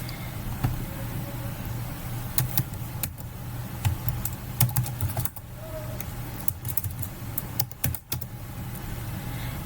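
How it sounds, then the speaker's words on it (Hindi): Someone types on a computer keyboard, with quick scattered key clicks over a constant low background hum. "आप फर्स्ट नेम में फर्स्ट नेम टाइप करेंगे और लास्ट नेम में सेकंड नेम टाइप करेंगे"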